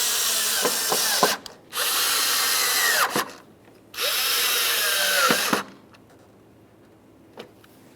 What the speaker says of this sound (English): go ahead and start in all three of your mounting screws. After they're all started in, you can go ahead and snug them up